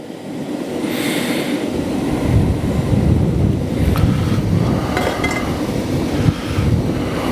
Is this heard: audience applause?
no